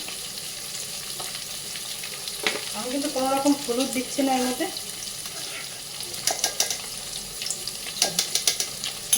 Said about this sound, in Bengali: একটু মাথা পনিরগুলো ভাজা হয়ে গেছে আমি কিন্তু এটা তুলে নেব